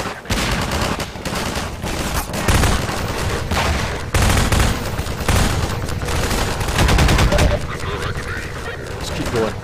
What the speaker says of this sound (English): this fucking pea shooter machine gun